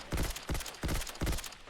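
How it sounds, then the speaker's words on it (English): Four quick, evenly spaced bursts of fire from the Objective Rifle (OICW) in Fallout 4, each a sharp loud cluster of shots with a short decay, heard alone. "Let's move over to our burst fire version"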